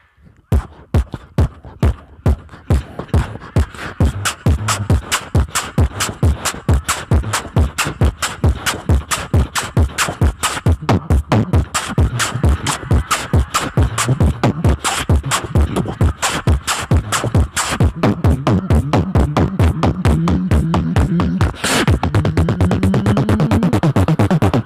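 A voice imitates endless house music with a steady, driving thump that repeats without a break for the whole stretch, loud and close, with no other talk.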